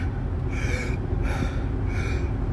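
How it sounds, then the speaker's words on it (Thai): A person draws in three slow, deep breaths, each audible inhale rising at a steady interval, close and clear, with no talking. "ทุกคนทำเดี๋ยวนี้นะครับหายใจลึกกันได้ไหม"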